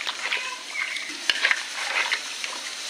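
Food being stirred and mixed with a few spoons of oil in a pot, spoon scraping and clicking in irregular strokes close by with a soft wet sizzle underneath.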